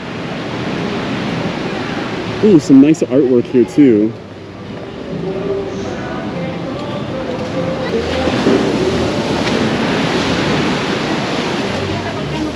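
Ocean waves breaking on a beach in Puerto Vallarta, Mexico, make a steady broadband wash of surf that swells slightly toward the end. Someone speaks briefly over it early on.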